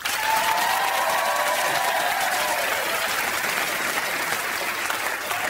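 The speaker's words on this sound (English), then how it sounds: "Ladies and gentlemen, by applause, all those in favour of the Martin Jeffries gym allotment scheme" Studio audience applauding steadily in a television panel show, voting by applause for a gym allotment scheme; dense, loud clapping throughout with no talk.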